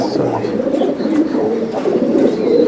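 Dense, overlapping cooing from many racing pigeons close by, a continuous loud murmur with faint higher chirps.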